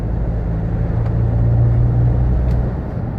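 A Nissan X-Trail drives along with a loud, steady engine rumble and road noise heard from inside the cabin, the pitch shifting slightly as it moves through the gears, with no talking.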